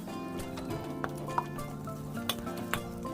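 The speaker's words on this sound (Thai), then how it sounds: "ขั้นตอนต่อไปเราก็ใส่เนื้อลงไปผัดกับพริกแกงให้หอมเลยครับ" Beef being stir-fried with red curry paste and split coconut cream in a pan for a spicy Thai beef and eggplant curry, a steady sizzle broken by several light clinks and scrapes of a utensil against the pan.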